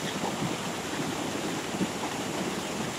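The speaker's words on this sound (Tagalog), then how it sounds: "Kung saan umaagos yung tubig." A stream flowing at Canding Falls, a waterfall in San Clemente, Tarlac, gives a steady, close rush of water that stays even and unbroken, with no voices over it.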